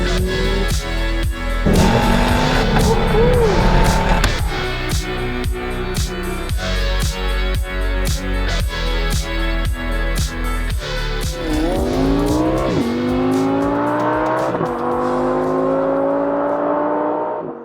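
A 2008 Audi TTS sports car drives past, its engine revving through rising gear pulls with sharp shifts between them, loud and close throughout, easing into a steady higher whine toward the end with no talking.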